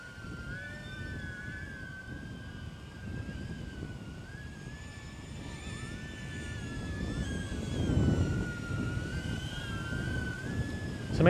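Wind blows outdoors around a small DJI Neo drone in flight, a steady rushing noise under the thin whine of its propellers, swelling briefly partway through with no one talking.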